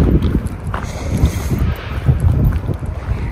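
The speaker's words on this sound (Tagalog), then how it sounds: "Mahangin!" Strong wind blowing outdoors on a cold day in Japan, buffeting the microphone in loud, uneven gusts and rumbling roars with no one speaking.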